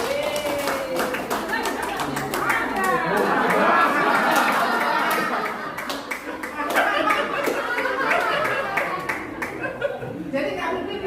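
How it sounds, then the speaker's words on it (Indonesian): A group at a Christmas gathering claps hands in a dense, uneven patter that carries on throughout, mixed with lively chatter and a few chuckles in the room. "Oke, tepuk tangan"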